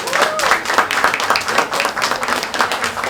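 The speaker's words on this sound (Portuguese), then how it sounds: "Então, uma salva de palmas para Fabiano Piuba, por favor." Audience clapping at a panel event on cultural policy for the periphery, bursts of applause with a brisk, uneven rhythm, fairly loud and close, with no talk over it.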